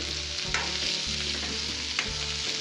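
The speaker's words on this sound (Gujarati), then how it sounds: "ડુંગળી પણ ફ્રાય થઈ ગઈ છે" Onions frying in a pan while cashew paneer curry is made at home, a steady dense sizzle with soft stirring scrapes near 0.5 and 2 seconds, close and continuous with no talk.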